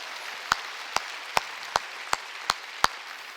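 A church congregation at a Wednesday service claps in slow, even unison, seven sharp claps about every 0.4 seconds over a quiet room, with no talking.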